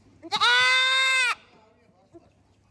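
A single goat on a farm lets out one loud, clear bleat lasting about a second, followed by faint background noise.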